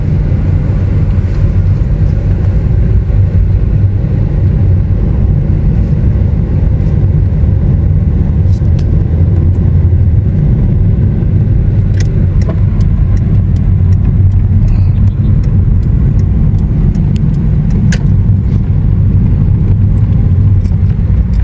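Road traffic near SM City Pampanga in the Philippines, a steady, loud rumble of cars driving close by, with faint higher ticks scattered over the continuous engine and tyre noise.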